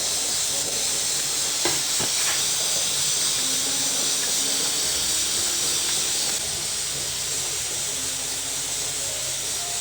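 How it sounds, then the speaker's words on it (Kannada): Sugar syrup for rasgulla boiling hard in a pot, a loud continuous hissing bubble with a couple of brief knocks near the start, steady throughout with no voices. "ನೋಡಿ ಇದು ಕುದೀತಾ ಇದೆ ಇಲ್ಲಿ ಫ್ರೆಂಡ್ಸ್. ಇವಾಗ ಇದು ಕುದೀತಾ ಇದೆ ಅಲ್ವಾ"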